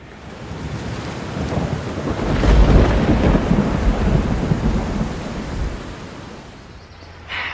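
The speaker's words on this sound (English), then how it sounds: "We got rained on." Heavy rain pours steadily during a trip to Pompeii, Positano, Capri and Sorrento in Italy, with low thunder rumbling through the downpour and swelling loudest in the middle before easing, no voices present.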